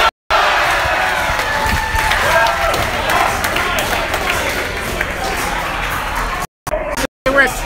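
Bar crowd at La Estrellita in Oakland cheering and clapping as the A's score, a loud, dense roar of voices and applause filling the room, broken by brief dropouts near the end.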